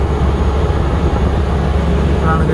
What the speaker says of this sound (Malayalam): ഫ്ലൈറ്റ് കറങ്ങി